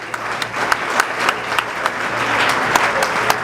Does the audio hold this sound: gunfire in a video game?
no